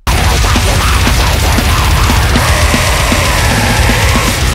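A death metal vocalist delivers extreme growls on a band recording: a loud, dense, harsh roar sustained for several seconds, with a steady pulsing throb beneath.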